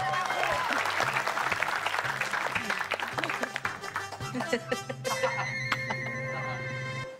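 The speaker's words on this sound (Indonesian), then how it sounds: "Kang Sule, tepuk tangan" A studio audience on a comedy show claps, dense applause under music that fades into scattered claps before musical tones take over at the end.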